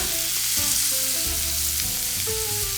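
Steaks sizzle loudly in a pan right after being flipped, a dense close crackle and hiss with a few tonal clinks and scrapes, no voices.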